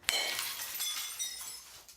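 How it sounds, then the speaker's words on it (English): Glass and objects shatter in a rage room in Tempe, where bats, golf clubs or hammers smash TVs, keyboards and vases; one sharp crash opens a bright, sustained run of breaking glass and tinkling shards that fades out, with a second hit at the end. "pick up a baseball bat, golf club, or hammer to break a variety of objects, such as TVs, keyboards, and vases"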